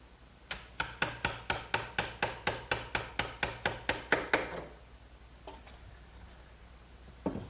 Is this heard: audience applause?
no